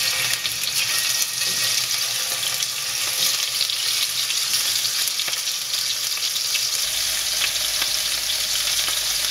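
Beef sizzles steadily in hot oil, a dense crackling hiss with no talking, close and continuous.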